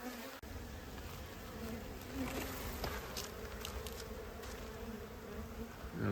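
Honey bees buzzing steadily in a newly installed nuc hive, a continuous close, faint hum with occasional individual bees droning past, no talking.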